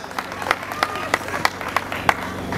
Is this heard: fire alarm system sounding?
no